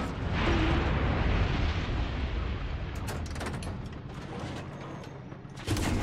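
A loud, sustained explosion blast in the video game Far Cry 6 fills the first seconds with a heavy rumble that slowly decays, followed by a sharper second burst near the end.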